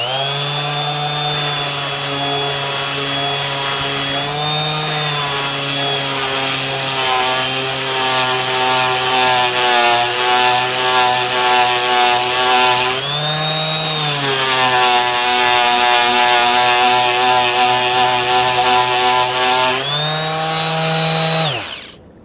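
A TACKLIFE mouse detail sander works over a wooden top surface with a loud, steady high-pitched motor whine, holding nearly continuous for about twenty seconds with brief dips in pitch as pressure shifts, then cutting off at the end.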